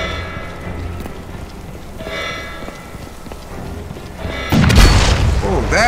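A tank fires in Crysis 2 Remastered, a single heavy boom near the end that breaks over a low, rumbling battlefield background.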